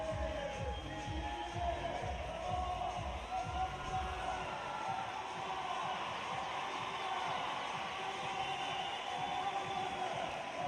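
At a CrossFit competition in Dubai, a crowd cheers and roars as a continuous wash of noise. A commentator talks over it, and thumping bounces come through early on.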